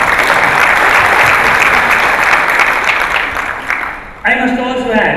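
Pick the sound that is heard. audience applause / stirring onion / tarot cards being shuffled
audience applause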